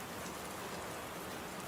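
Steady rain falls on a wet day, a soft, even hiss of drops on surfaces that holds without pause, fairly quiet and with no voices over it.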